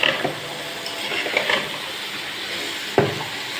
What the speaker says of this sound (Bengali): এবার কুচনো জালি আর আলুগুলো দিয়ে দেব। এবার খুব ভালো করে সবগুলো আমি কষিয়ে নেব।